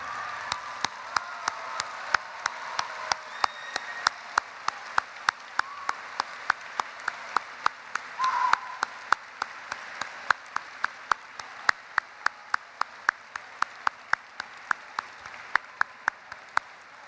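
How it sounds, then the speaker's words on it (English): An audience at a Science Olympiad opening ceremony stands and applauds families and friends, with soft crowd clapping underneath and a sharp, regular rhythm of loud claps repeating steadily throughout. "I want to ask you to rise and join me in applause of your families and friends who are here today"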